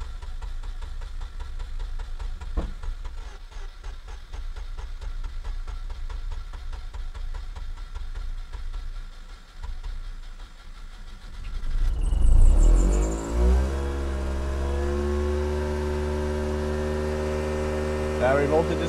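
Car engine cranking at length with a rapid rhythmic churn, then catching and firing up into a loud rev that settles into a steady idle. Someone speaks briefly near the start.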